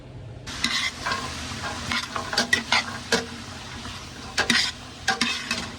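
Vegetables sautéing in a pot for spicy lentil soup, a steady soft sizzle with repeated spoon stirs and scrapes against the pot, close and fairly quiet.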